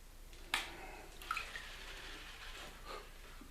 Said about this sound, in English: Now I can shake all the crap out of it, still keeping the fluid in there, the water in there, so it's moving